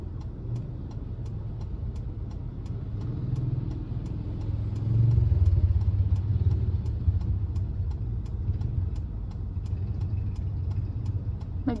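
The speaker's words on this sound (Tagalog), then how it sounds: "Naglalabas pa ang motor ng mamay." A motorcycle engine idles steadily at a low rumble as it is brought out, a continuous mechanical drone with light clatter and no talk.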